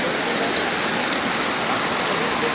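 Floodwater rushes through a swollen stream that has risen to street level during heavy rain, a continuous loud roar of turbulent water that is close and unbroken.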